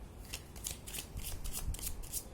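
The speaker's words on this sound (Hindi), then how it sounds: "मैं थोड़ा कार्ड्स को इधर एडजस्ट कर देती हूँ ताकि आप देख पाओ।" Tarot cards being handled and shifted around on a surface during a reading, giving a run of soft, crisp shuffling and sliding bursts in an irregular rhythm, close and fairly quiet with no talking.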